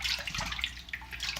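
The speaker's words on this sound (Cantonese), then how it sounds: "我再會拎個去水喉頭度沖下啦" Abalone rinsed under a running kitchen tap, a soft steady splash of water with faint drips, quiet and close, with no voices.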